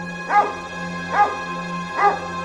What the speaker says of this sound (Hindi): वहां वही डरावना कुत्ता फिर से उस पर भौंकता हुआ दौड़ता है।